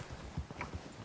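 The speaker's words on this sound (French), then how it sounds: "c'est le cheval de Dutch van der Linde." Hooves of a horse clip-clop in Red Dead Redemption 2 during a snowstorm, a few quick, muffled thuds close by over a soft windy bed.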